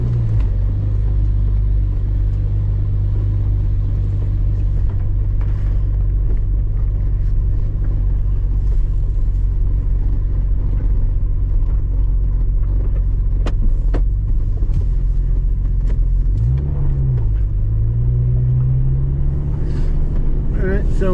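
A 1989 Jeep on a test drive gives a steady, loud, low engine rumble and road drone from inside the cab, with a brief rev change near the end and a person speaking over it.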